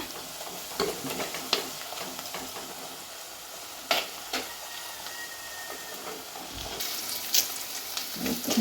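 A soft, steady sizzle of ginger and garlic frying in oil, with occasional scrapes and clinks of stirring cutting through; no one speaks.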